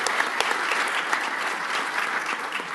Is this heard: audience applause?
yes